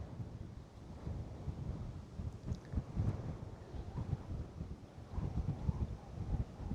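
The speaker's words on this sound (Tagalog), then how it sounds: "Malakas yung hangin." Strong gusting wind buffets the microphone outdoors during a drone test flight, with low, uneven rumbling bursts that rise and fall throughout.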